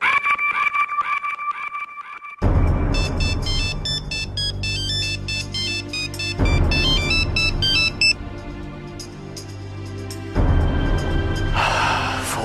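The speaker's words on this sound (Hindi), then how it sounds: "फोन उठाओ" A phone ringtone plays as a bright, repeating electronic melody over a steady droning backing, loud and near, looping in several cycles with no speech.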